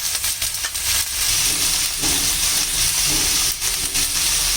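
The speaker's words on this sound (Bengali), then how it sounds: "এবার আমি আলু কাঁকরোলগুলি একটু ভেজে নেব" Potatoes and spiny gourd (kakrol) frying in a pan, giving a continuous loud sizzle and hiss with occasional bursts of crackle.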